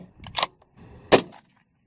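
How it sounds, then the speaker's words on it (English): Two sharp, close gunshots from a Lithgow Arms LA102 .223 rifle crack out about 0.7 seconds apart, each a brief loud burst followed by a short dying echo, then quiet. "Still shooting low."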